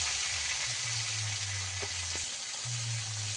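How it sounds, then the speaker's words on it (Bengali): Pointed gourd frying with salt in oil left from frying fish, a steady close sizzle with a low hum underneath and a couple of faint clicks partway through. "মাছ ভাজার তেলেই আমি পটলটাকে ভালো করে ভেজে নেব।"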